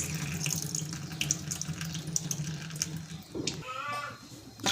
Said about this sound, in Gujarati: આપણે પાણી ઉમેરી દઈશું